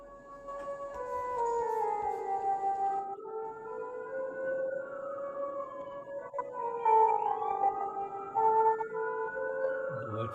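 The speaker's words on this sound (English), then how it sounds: "Duet for siren and flute." A wailing siren rises and falls in long sweeping glides while a flute-like tone plays along in a duet, the two lines overlapping and weaving around each other, fairly clear and close.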